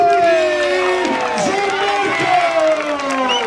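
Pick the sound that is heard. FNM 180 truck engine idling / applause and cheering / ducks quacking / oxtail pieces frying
applause and cheering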